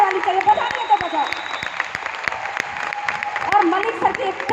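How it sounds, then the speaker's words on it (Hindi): Audience applause at a motivational business event: a steady patter of many clapping hands at moderate distance, continuing for the whole stretch. "तालियां बजा लीजिए मलिक सर के लिए, जोरदार चाहिए मुझे, ऐसी वैसी नहीं चाहिए, जोरदार वाली चाहिए, बजा दिए तो बजाओ"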